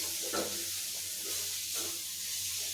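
Bitter gourd curry with spices, including garam masala, sizzles in a pan while being stirred, a steady soft frying hiss broken by a few faint scrapes of the spoon.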